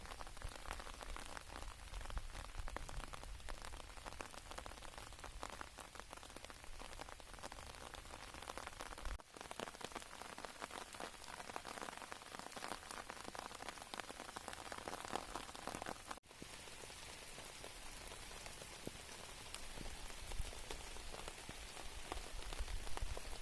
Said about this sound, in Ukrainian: Звуки літнього дощу це справжня музика природи, що наповнює простір спокоєм, свіжістю, затишком